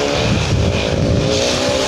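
A KTM Duke 200 and a Benelli TNT race on a Delhi street, their engines loud and close in a continuous, strained roar at high revs.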